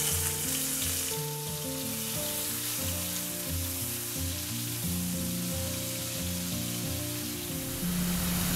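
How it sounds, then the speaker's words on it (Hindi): Chopped onion frying in a pan with garlic until brown, a steady close sizzle running throughout alongside a sustained low tonal hum, with no talk. "अब इसमें हम 1 कटा हुआ प्याज डालेंगे और प्याज को हम अच्छा ब्राउन होने तक भूनेंगे।"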